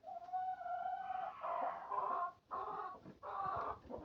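Hens clucking and calling repeatedly in short bursts, fairly close in a coop, with no talking.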